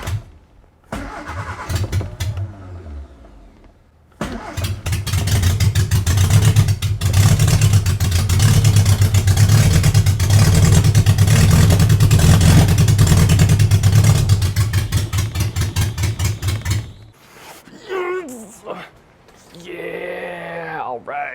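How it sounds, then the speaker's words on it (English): A car engine cranks, catches and starts, then runs loud and steady with a rough rumble for about ten seconds before shutting off. People talk briefly afterward. "we verified that the motor does indeed start up"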